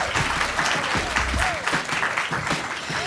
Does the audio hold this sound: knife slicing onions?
no